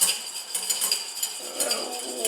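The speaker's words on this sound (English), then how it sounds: "Whisk, whisk, whisk." A whisk beating salad dressing for a frisée and lardons salad in a bowl, making a steady run of quick, bright metallic clinks and scrapes close by, with no talking.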